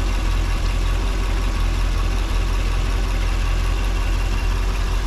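A Chevrolet C6 Corvette with an LS V8 idles steadily nearby, a smooth continuous low rumble with even engine pulses and no revving, no voices over it.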